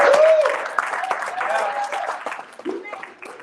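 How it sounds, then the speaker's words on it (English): Audience at a motivational talk breaks into applause, a dense patter of clapping that swells early and then tapers, with a voice and cheers mixed in. "clap it up for yourself"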